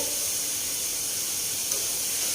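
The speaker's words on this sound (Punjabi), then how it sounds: "ਇਹ ਆਪਣੇ ਪਿਆਜ਼ ਭੁੱਜਦੇ ਆ" Chopped onions fry in a pan for besan bhurji, giving a steady, even sizzling hiss that runs unbroken and close, with no voices over it.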